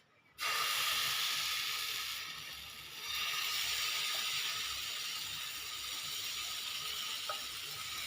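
Oil and a second kundla batter hit a hot pan, bursting into a loud, steady sizzle that starts abruptly and hisses on continuously, close up, with a brief dip midway and no talking.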